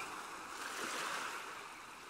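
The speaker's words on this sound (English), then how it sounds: "Start focusing on the sound of the ocean" Steady wash of ocean waves, a soft continuous roar that swells gently and stays low and even throughout.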